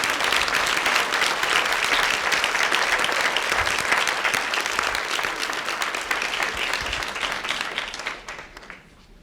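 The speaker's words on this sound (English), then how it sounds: "Can we just give him one more hand of applause?" Sustained audience applause after a talk at Stanford, a dense wash of many hands clapping close and loud, gradually thinning and fading out in the final second.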